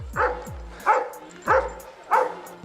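A black dog barks close by outdoors, four sharp, evenly spaced barks about half a second apart, with faint low rumbling between them.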